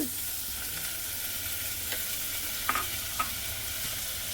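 Onions and tomatoes, added after asafoetida and cumin, fry in a pan with a steady close hiss and sizzle, broken by a couple of brief utensil taps near the end, with no talking.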